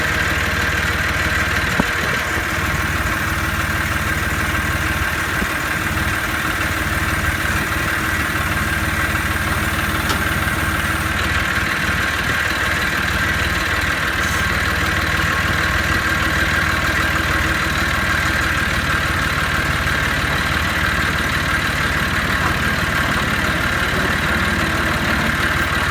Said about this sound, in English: I'm going to get it out with the good old John Deere